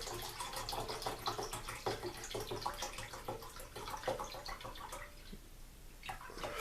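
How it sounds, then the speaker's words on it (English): Beef broth pours into a pan of mushroom gravy for Salisbury steak, giving a faint, close, continuous trickling and splashing that thins out near the end. "we're going to add a little more beef broth to that"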